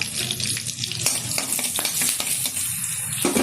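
Ripe chili and turmeric fry in a hot pan with a steady, close, crackling sizzle that hisses on without a break and carries no talk.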